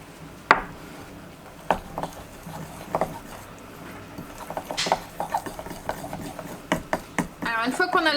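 A spoon stirs a ricotta orange cake glaze in a bowl, giving repeated irregular knocks and scrapes against the bowl while a person talks over them.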